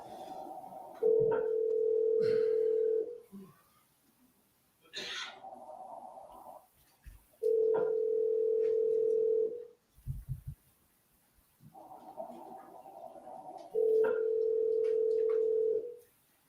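A telephone call rings through toward voicemail, heard as three long, evenly spaced ringback tones with quiet gaps between them and faint breathing and shuffling noise.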